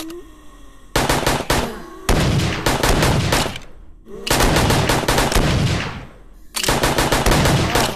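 Loud automatic gunfire from a gun in the VRChat zombie survival game rattles in long sustained bursts, broken by short pauses between volleys.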